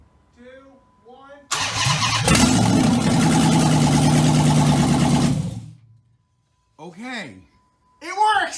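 A Dodge Charger with a replacement engine cranks for about a second, then fires into a loud, rough idle lasting roughly four seconds before shutting off. Voices talk briefly before and after.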